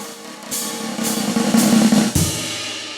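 A jazz snare drum press roll, building steadily louder as a continuous buzz with pulses on each beat, capped by a crash cymbal hit that sustains to the end.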